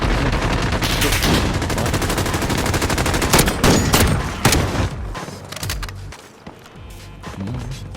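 Rapid bursts of gunfire from a sniper-practice video game fill the clip, dense volleys at first that thin out into scattered shots and thuds toward the end.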